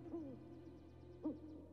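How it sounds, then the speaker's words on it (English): An owl hoots twice in an animated series, soft low calls spaced about a second apart against a quiet background. "that's just an owl"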